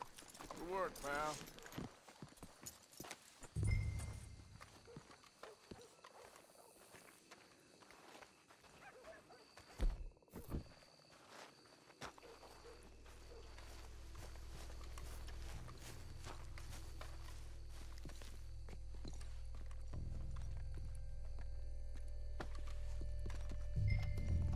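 Horses walking in the video game Red Dead Redemption 2, soft hoof clip-clops and footsteps mixed with game sounds, followed by a building low rumble and ambient noise.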